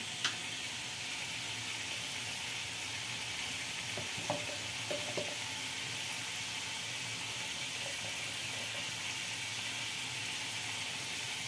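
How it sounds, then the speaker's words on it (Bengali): Boiled cabbage with garam masala stirred in a hot frying pan gives a steady, even sizzle throughout, with a few faint utensil clinks partway through. "গরম মশলা দিয়ে একটু নাড়ছি"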